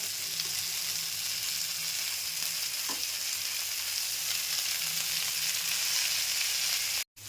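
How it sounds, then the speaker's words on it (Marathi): Steady hissing sizzle of fish frying in a kadhai, continuous and close, with one brief clink partway through before a sudden cutoff at the end. "कढईने पण भाजून घेऊया जरा"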